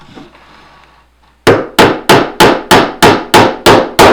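Nine evenly spaced, sharp hammer blows drive small nails through a quarter-inch plywood piece into a dollhouse porch floor, each strike loud and close, after a brief quiet lead-in.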